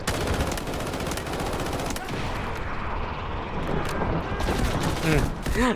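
Loud, continuous automatic gunfire in the Delta Force video game fills the whole stretch as rapid, dense bursts with overlapping shots and impacts, while a voice talks faintly underneath.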